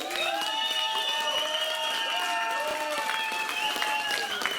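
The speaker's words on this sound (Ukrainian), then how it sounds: "Хто за команду хлопців, будь ласка, віддайте оплески свої." Wedding guests clap and cheer for the boys' team during a party game, dense applause mixed with sustained high shouting and whooping voices from the crowd.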